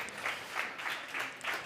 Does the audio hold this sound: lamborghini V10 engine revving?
no